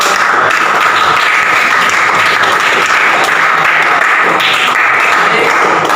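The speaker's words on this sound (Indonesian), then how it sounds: "Oke, tepuk tangan untuk kita semuanya." Classroom applause from students at the end of a lesson, loud continuous clapping from a group that fills the whole stretch, with a faint voice occasionally breaking through.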